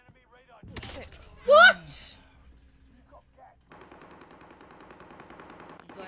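Airstrike blasts and gunfire in an online multiplayer shooter, with two loud bursts early on followed by a steady stream of rapid fire, while a voice speaks briefly.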